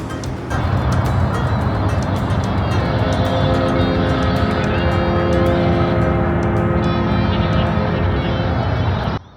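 Constant city street traffic roar in Portland, Oregon, a loud steady rumble of passing engines with a faint tonal hum running throughout and cutting off abruptly at the end.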